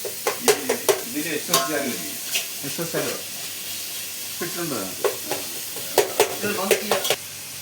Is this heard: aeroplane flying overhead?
no